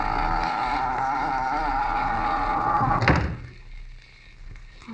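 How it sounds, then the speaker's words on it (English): A door slams shut into a boathouse in a 1940s radio detective drama, one solid thud after a steady background drone, leaving the room quieter. "Shut the door."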